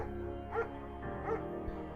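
A German shepherd in the video game Firewatch gives two short barks about half a second apart, close and moderately loud over a low steady hum, with no talking.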